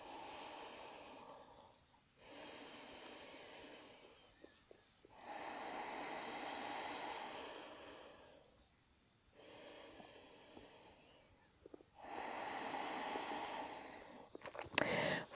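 Slow, deep breathing in a yoga flow, with three long, close inhale-exhale cycles at an even, unhurried pace and brief quiet gaps between them.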